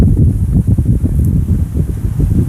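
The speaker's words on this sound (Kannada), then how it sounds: "ಇವಾಗ ಏನು ಗಾಳಿ ಬೇರೆ ಬೀಸ್ತಾ ಇದೆ ಇಲ್ಲಿ, ಸಖತ್ ಗಾಳಿ ಫ್ರೆಂಡ್ಸ್." Strong wind blows outdoors and buffets the microphone, giving a loud, continuous low rumble that surges and dips unevenly throughout.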